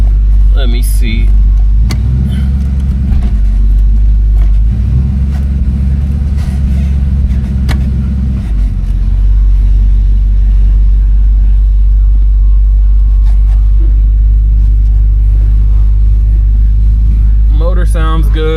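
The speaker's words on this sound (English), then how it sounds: "Motor sounds good" A 1969 Ford Fairlane's engine idles and runs with a steady low rumble, loud and close, while a person talks over it.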